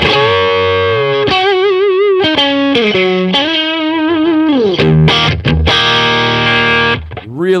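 Loud distorted electric guitar with a bright, quacky Strat-like tone from the middle pickup added, playing bends and sustained notes that ring out continuously.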